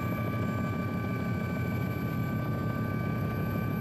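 A medical transport helicopter flies with a constant, even drone of rotor and engine noise, steady and fairly loud throughout with no voices.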